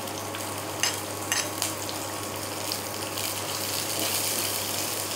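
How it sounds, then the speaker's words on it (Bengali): Chillies fry lightly in a pan for crispy snack rolls, giving a steady, even sizzle with a few soft clinks near the start and no talking. "একটু হালকা করে ভেজে নেবো"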